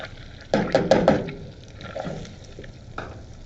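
Chopped onion dropped into a saucepan of hot olive oil and bubbly melted butter, giving a burst of sizzling and clattering that settles into a steady, softer frying hiss.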